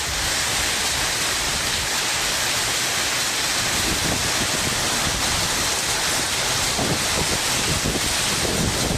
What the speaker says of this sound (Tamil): மாலையில் கோரிப்பாளையம், சிம்மக்கல் பகுதிகளில் சூறைக்காற்றுடன் கனமழை பெய்தது